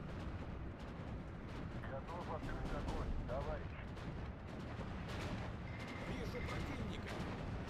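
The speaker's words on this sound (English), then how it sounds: "Let's wait for the next mortar barrage" A mortar barrage in a video game, a run of dull booming impacts and crackling blasts rolling one after another, with a voice talking over the explosions.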